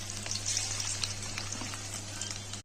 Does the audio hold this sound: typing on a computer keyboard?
no